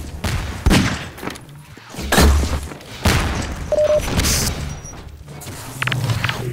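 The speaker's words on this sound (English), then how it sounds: "Explode a barrel." Barrel exploding in Half-Life 2 Deathmatch amid a busy firefight: several heavy booms and thuds mixed with rapid gunfire bursts, loud and close, no one talking.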